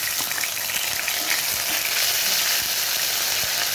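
Ginger paste fries in hot oil in a pan with small cardamom pods, giving a steady, close sizzle with faint clicks of stirring throughout.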